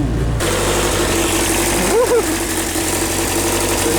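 Turbocharged car engine idling steadily in a snowy driving video game, a continuous low rumble with a brief rise partway through, under faint talk.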